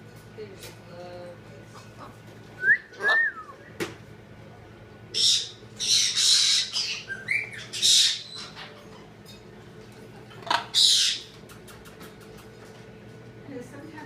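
Pet lovebirds give sharp squawks and chirps in short bursts and clusters, loud and close, against a quiet indoor background.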